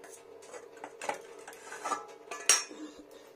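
Dishes and cutlery handled while serving rui fish curry, a few close clinks and taps of utensils against plates, ending in one sharper ring, in a quiet kitchen.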